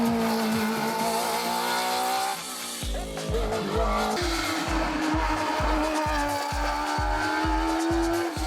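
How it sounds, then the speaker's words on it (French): Race car in a Martinique hill climb, engine roaring loudly and close with squealing tires, then a rapid run of gearshift-like pulses as it revs hard and accelerates up the course. "finalement Michel Acari qui donne tout dans la troisième montée, surprend tout le monde et s'empare du meilleur temps pour 78 centièmes."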